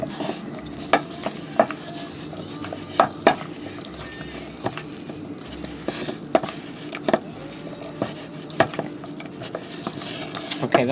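Mushroom stuffing mixture with a little oil stirred by hand in a bowl, soft repeated scraping and tapping strokes at an uneven rhythm over a quiet kitchen background.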